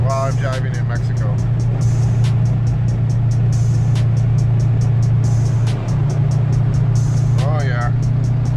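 A car driving on a road in Mexico, with a steady low engine drone and road rumble throughout, and faint voices over it.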